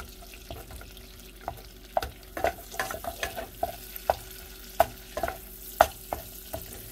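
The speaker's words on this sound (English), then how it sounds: "since the garlic is done, you're just heating it up in the sauce. But you want to try to mash as much as you can down." Roasted garlic is mashed and stirred in a lemon cream sauce in a pan, giving a low simmering sizzle with repeated soft scraping taps of the utensil close by.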